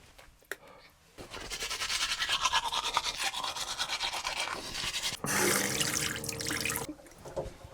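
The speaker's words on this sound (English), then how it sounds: "A touch of water, and then I brush." Rapid scrubbing of a toothbrush close by, rhythmic and fairly loud, after a brief splash of running water; a short tap of water near the end.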